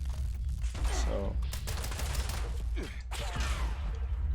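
Ballistic gutsy robots in Fallout 76 take a dense volley of gunfire, rapid shots tumbling over one another across the whole stretch with game effects and a voice murmuring underneath.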